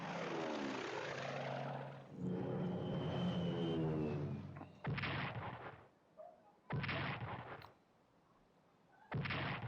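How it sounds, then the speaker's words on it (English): Airstrikes in a World at War video game mod: a long rumbling roar of aircraft and blasts, followed by three loud, abrupt bursts of explosive gunfire separated by brief quiet gaps. "I think I'll send some airstrikes here"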